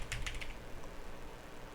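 Computer keyboard keys are typed in quick short clicks near the start, then steady background noise continues, fairly faint with no talking.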